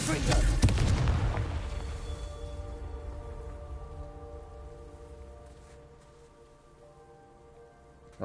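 A Confringo spell explosion shattering stone in Hogwarts Legacy, one loud close blast followed by a long crumbling, rain-like debris tail that slowly fades.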